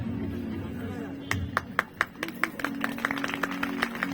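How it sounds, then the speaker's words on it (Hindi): Scattered hand claps from an audience at a Bhagavat Katha religious discourse, sharp separate claps in an uneven rhythm over a background hum, with voices now and then. "ऐसा तालियों में कंजूसी नहीं करना आप लोग। बजाते रहे ना।"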